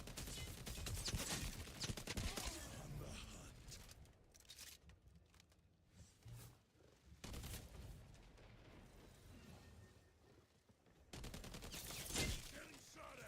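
Video game gunfire in an online shooter match, bursts of rapid shots and booms swelling and fading, loudest near the start and end, with quieter gaps between.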